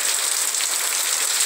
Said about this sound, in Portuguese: foi muito grossa a chuva, muito grossa.